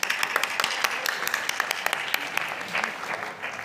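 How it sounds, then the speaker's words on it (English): Attendees of a community roadmapping session applaud themselves, a fairly close round of clapping with distinct individual claps standing out over the general patter, easing off near the end. "give yourself a round of applause"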